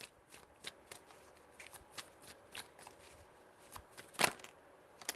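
Tarot cards are shuffled with a quick run of soft riffling flicks and taps up close, ending in one sharper snap.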